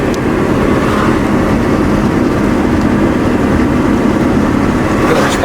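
A 1965 Ford Mustang cruising at around 45 mph, heard from inside as a steady, loud, low engine drone mixed with road and wind noise that holds constant throughout, with no one speaking.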